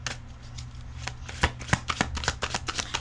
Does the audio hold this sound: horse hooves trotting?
no